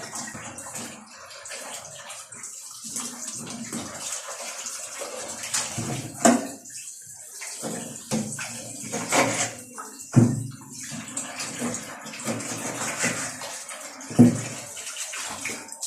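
Raw chicken is washed under a running tap, with an uneven splashing flow of water that surges and drops in bursts, close and fairly loud.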